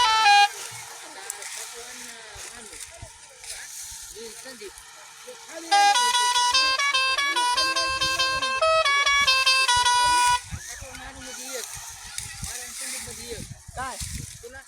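A ten-tyre truck loading sugarcane in a cane field gives a horn blast of about four and a half seconds, loud and steady, with voices and field noise before and after.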